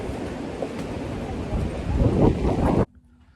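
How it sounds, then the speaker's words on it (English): Wind buffets the microphone outdoors, a loud rough rumbling gust that swells before the sound cuts off abruptly. "it's windy."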